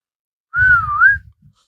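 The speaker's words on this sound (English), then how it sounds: "You just had me whistle." A single clear whistled note slides down and back up in pitch, close and fairly loud, lasting under a second, with soft breathy blowing underneath and nothing else around it.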